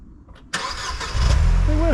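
A cheap car with inexpensive tyres starts and revs as it tries to drive up onto a wooden ramp, the engine catching suddenly and then building to a louder, rising drone close by.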